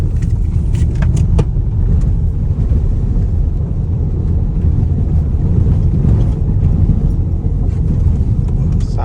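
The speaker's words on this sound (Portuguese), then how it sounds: "a gente pegou e ligou o modo AWD para o carro ficar traçado e ficar mais no trilho" A Haval H6 PHEV plug-in hybrid SUV drives in AWD mode on a slippery muddy track, producing a loud, steady low rumble of tyres and cabin road noise with occasional small knocks and rattles.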